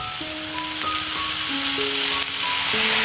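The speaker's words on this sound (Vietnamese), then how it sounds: "Rồi đảo đều cho cơm ngấm gia vị" Fried rice with pickles and dried anchovies sizzles steadily in a hot pan as it is stirred, a continuous close frying hiss with faint tonal kitchen hums running underneath and no voices.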